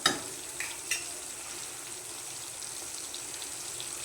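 Ingredients for a chutney sautéing in a pan, a soft continuous sizzle with a couple of brief clinks or stirring knocks near the start, then a quiet steady hiss.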